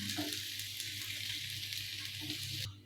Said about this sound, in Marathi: सर्व अंडी आहे ते मी पलटी करून घेणार आहे